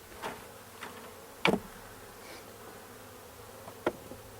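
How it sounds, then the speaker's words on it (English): Honeybees buzz steadily while being shaken from a five-frame nuc into a new eight-frame hive, a close, even drone broken by a few sharp knocks and thumps. "we're just going to dump these bees in here"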